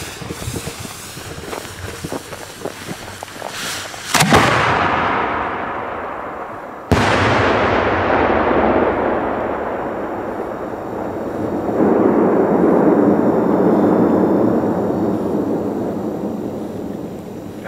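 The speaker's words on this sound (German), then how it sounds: "Hört euch diesen wahnsinnigen Sound an. Die explodieren am Boden und gehen dann in die Luft." Polenböller firecrackers set off outdoors, exploding on the ground and then in the air, with sharp loud bangs followed by long rumbling echoes and rushing noise, no talking.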